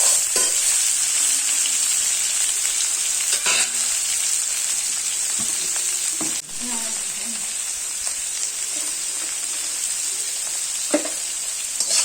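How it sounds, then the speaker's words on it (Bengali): Onions and tomatoes frying with a little salt in a pan for a Bengali village chicken dish, giving a loud, even hiss of sizzling oil throughout with occasional spoon scrapes and knocks. "এবার সামান্য একটু লবণ দিয়ে এটাকে ভালো করে ভেজে নেব।"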